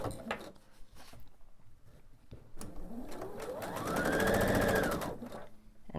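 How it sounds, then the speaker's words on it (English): A sewing machine stitches a quilt, running slowly in short bursts before a longer steady whirring run that rises and falls in pitch, close and clear with no talk. "Slowly sew till I get to the middle."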